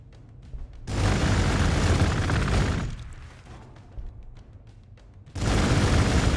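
Gunfire in the Space Marines video game: two sustained bursts of loud, dense, crackling weapon fire, each lasting a couple of seconds, separated by a quieter stretch with scattered faint shots.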